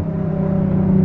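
Infiniti G37 engine revving on a downshift with paddle shifters, a loud, steady rumbling rev with strong low harmonics held through one continuous burst.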